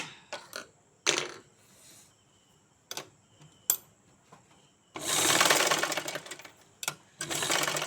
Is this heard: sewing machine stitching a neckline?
yes